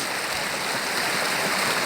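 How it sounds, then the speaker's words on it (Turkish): Mountain stream water flowing along a creek bank at morning, a steady, full rushing hiss heard alone without talk. "sular akıyor"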